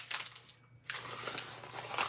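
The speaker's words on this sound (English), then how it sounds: "Crumple it." Paper is crumpled by hand for an art journal, close and quiet, giving dense, crackly crinkling bursts with a brief pause in the middle.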